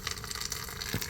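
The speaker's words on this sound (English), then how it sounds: "So now I'm basically draining the tank" Fuel drains from the half-full gas tank of an LS-swapped Impala through a fuel line after the hose blew off, making a steady, close rushing gush with faint trickling texture and no talk.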